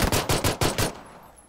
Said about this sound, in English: We're taking some fun gunfire here, boys.